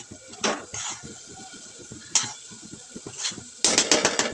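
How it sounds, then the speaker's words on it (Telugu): A spoon scrapes and clinks against a metal pan while a dry dal powder mix is stirred, with uneven rhythmic strokes and a brighter burst of clatter near the end, close and fairly loud. "పప్పుల పొడి కలిసేంత వరకు బాగా కలుపుకోవాలి"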